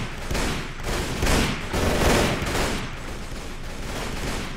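Gunshots in a Red Wars Warband mod battle: a rapid fusillade of loud, overlapping musket-style cracks and booms in clustered volleys, with no talk heard.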